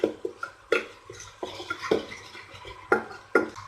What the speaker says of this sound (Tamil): இதுக்கு பதிலாக இதோட சேர்த்து மிக்ஸ் பண்ணி விட்டுடலாம்.